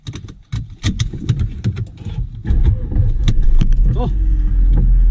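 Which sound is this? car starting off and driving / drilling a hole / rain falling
car starting off and driving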